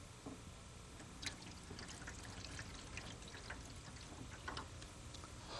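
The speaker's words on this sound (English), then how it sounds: "Dilute your developer solution as directed and pour into the developer tray." Photographic developer solution is poured into a darkroom tray, making a quiet, continuous liquid stream with faint splashing that holds steady from start to finish.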